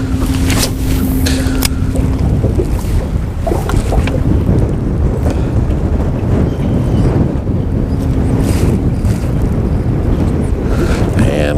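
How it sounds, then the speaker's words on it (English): Strong wind gusting over a shallow, fast-moving river, buffeting the microphone in a loud, constant roar mixed with rushing water and occasional thumps. "And the wind is blowing pretty good."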